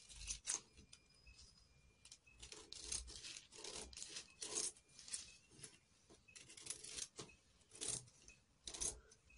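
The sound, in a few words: cutting a long skirt pattern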